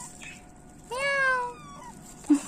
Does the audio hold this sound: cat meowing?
yes